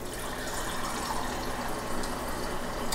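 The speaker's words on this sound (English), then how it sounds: "to make the compote out of that, I'm going to add water" Water pours steadily from a tap or container into a pot for a fruit compote, a continuous soft splashing fill at moderate distance, with no talking.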